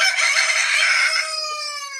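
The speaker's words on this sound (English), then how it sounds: "That is a Salvadoran rooster." A Salvadoran rooster's crow, a recording played back as a phone alarm, rings out loud and close in one long drawn-out call that fades at the end.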